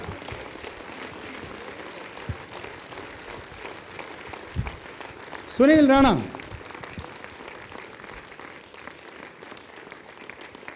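An audience gives steady, moderately quiet applause throughout, with someone speaking over it and a brief louder vocal burst midway.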